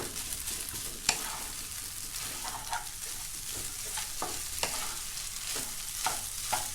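Rice is stir-fried in a pan for a Thai shrimp-paste rice dish, a quiet steady sizzle punctuated by intermittent scrapes and taps of a spatula.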